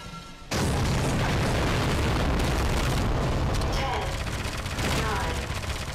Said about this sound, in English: And we just gotta keep shooting.